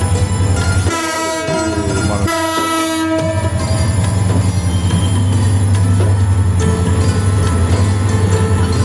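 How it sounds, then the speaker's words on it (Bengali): The Chittagong University shuttle train rolls past close by, its wheels clattering loudly, and its horn gives two long blasts near the start before the heavy rumble and squeal carry on. "Chittagong shuttle train,"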